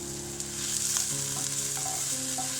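Spring onion and chopped capsicum with garlic sizzle and crackle steadily in a pan over high flame, a close, continuous fry with a few soft stirring clinks and scrapes.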